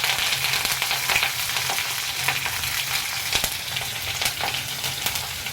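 Cinnamon, cloves, fennel, cardamom and green chillies fry in a little oil, a dense continuous sizzle with crackling pops, steady and fairly loud throughout.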